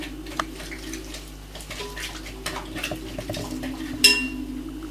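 A spoon mixes spices and salt in a dish, giving soft clinks and scraping taps over a low background hum, with a sharper clink near the end.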